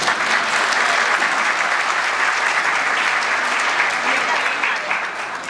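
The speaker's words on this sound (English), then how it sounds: "I think you deserve a round of applause." Audience applause for parents at a school band's Christmas show, a dense, steady wash of many hands clapping that holds strong throughout and tapers slightly at the end.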